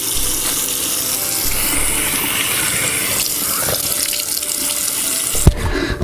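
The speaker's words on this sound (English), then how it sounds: "Now I'm gonna wash it off again, guys, with super cold water." Cold tap water runs steadily into a sink as someone splashes and washes their face, a continuous close rush with a sharp knock near the end.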